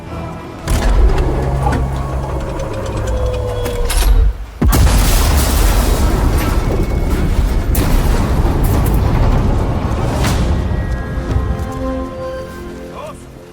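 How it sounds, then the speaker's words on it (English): A gun emplacement explodes on firing in the video game Sniper Elite 5, a loud deep boom that rolls into a long rumbling, crackling roar with debris-like noise, after a lower-level passage with a brief drop just before the blast. "The gun will blow when it's fired."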